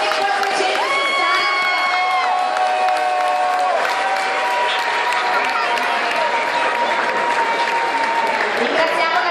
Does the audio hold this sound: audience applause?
yes